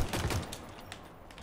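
Grenade explosion in the Halo Infinite shooter, a loud low boom at the start that quickly fades into rumbling game noise with scattered gunfire, no talking.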